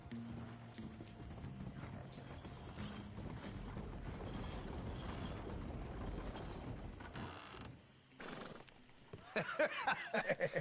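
Horse hooves clip-clop with faint mechanical clatter in a Red Dead Redemption game scene, a steady busy mix running throughout and turning into sharper, louder hits near the end.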